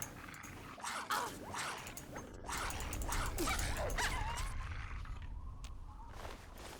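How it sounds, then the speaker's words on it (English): In the video game Fallout 3, a dog gives several short barks and yips followed by a drawn-out whimper, close and fairly loud over low game ambience. "Oh, hi, it's dog."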